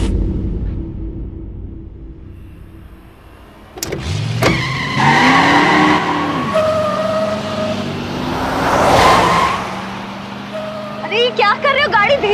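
A taxi car speeds along with a loud, steady engine roar and road noise and a rising whine, while people talk urgently over it.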